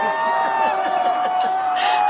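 A crowd cheers and whoops in a bright, sustained burst for about two seconds, with a high tone running underneath, like a canned audience sound effect.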